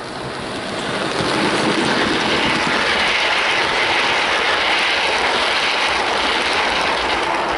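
A Hornby rebuilt Royal Scot class model locomotive hauls a long rake of LMS coaches, a steady broadband rolling rumble close by that stays even and continuous from start to finish with no voices.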